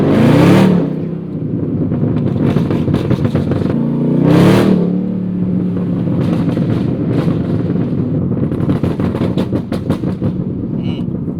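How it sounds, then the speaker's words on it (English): A Chevrolet Camaro's exhaust in first gear: a loud, close engine drone with rev swells and bursts of sharp crackles and pops through the latter half. "first gear pops."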